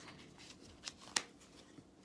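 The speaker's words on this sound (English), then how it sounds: "Just going to start shuffling for you" Tarot cards from a Gilded Tarot deck being shuffled by hand, soft papery riffling with a couple of crisp snaps, quiet and close with no talking.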